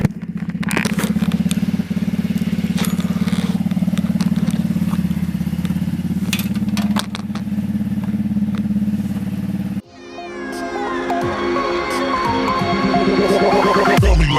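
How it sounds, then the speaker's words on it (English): A Honda PCX scooter engine runs with a steady low idle drone, then cuts to a rougher, higher revving tone partway through, close and loud with no talk. "As soon as that screen comes on, I can start my bike."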